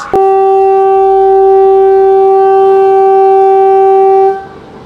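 The Kolkata to Sairang Express sounds one long, very loud, steady horn blast lasting about four seconds before it cuts off, heard up close with no talking.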